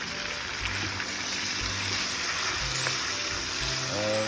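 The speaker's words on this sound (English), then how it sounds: "We are going to stir fry it a little bit." Vegetables stir-fried in a pot for generic Chinese food, producing a loud, dense, continuous sizzle that fills the whole clip, with faint low scraping bursts as they are tossed and no voices.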